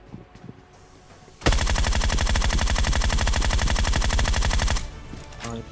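Sustained rapid automatic gunfire from PUBG on the Miramar map, loud and continuous for several seconds, then stopping abruptly into quieter background game sounds.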